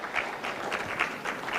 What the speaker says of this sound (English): another round of applause for Dr. Dorcas Sakurut